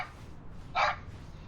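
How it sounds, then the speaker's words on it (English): A single short dog bark, moderately loud and close, stands alone over a faint low background hum. "Stop barking!"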